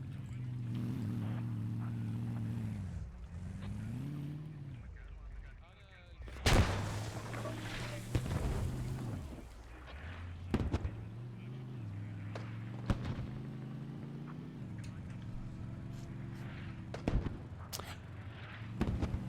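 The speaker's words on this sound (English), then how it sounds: "Smoke mortars are being thrown," Smoke mortars fire in the video game Squad, several sharp booming thumps scattered over a steady droning vehicle engine on a Middle East insurgent map.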